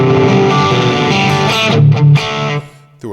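An electric guitar runs through a Seymour Duncan 805 distortion pedal into a TH2 rig, playing loud sustained distorted chords, then a few choppy, shifting notes, and a short final stab after a brief gap.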